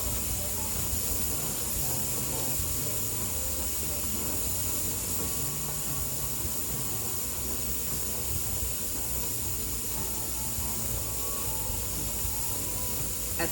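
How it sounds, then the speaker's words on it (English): Steam vents from a pressure canner while chicken stock is being canned, a continuous, fairly quiet hissing rush that holds steady without breaks. "here's what it'll sound like when that steam is vented."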